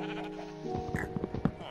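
Sheep in Minecraft on PS4 give a short bleat in a pen, heard over low ambient game noise.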